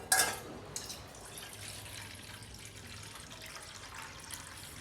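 Water poured into a vessel while making panakam, a sweet drink: a steady splashing, trickling flow after a brief louder splash at the start, continuing evenly throughout.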